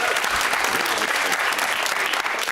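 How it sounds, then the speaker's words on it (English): A studio audience at the University Challenge quiz show applauding the York team, steady and fairly close, a full sustained burst of clapping lasting the whole moment. "Can we have a round of applause for the York team?"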